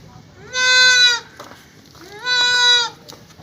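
A pregnant goat for sale gives two loud, close, drawn-out bleats about a second apart, with quiet background between them.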